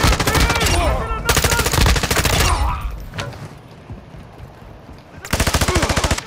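Rapid machine-gun bursts from the Call of Duty video game, loud and close, firing in long sustained volleys with a quieter stretch of lingering battle noise in between before another burst.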